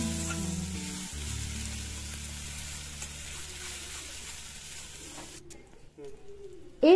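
Coriander and green chilli paste stirred in a hot frying pan gives a steady, close hiss of sizzling that runs throughout and fades near the end, where a brief sharper scrape and clatter come in.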